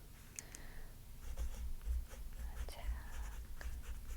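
A pen scratches softly across paper in short handwriting strokes, close and quiet, in a calm library-desk setting, with faint breathy vocal sounds in the background.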